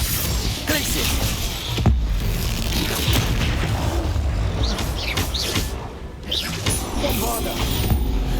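Bombarda, an explosion spell, goes off in Hogwarts Legacy, with booming blasts and crashes layered over dense game combat noise and music, and voices speaking throughout.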